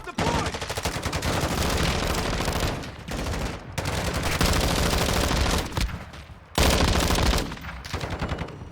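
Automated sentry gun firing in Modern Warfare 2 during a Spec Ops defense on Mt. Zaya: loud, sustained rapid-fire bursts with brief pauses, mixed with other gunfire and radio-style voices in the background.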